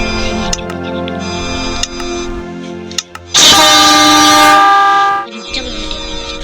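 An Indonesian electric commuter train, a JR 205 series KRL at Bogor station, sounds a loud, shrill, sustained horn blast of about two seconds, following quieter ticking and station ambience.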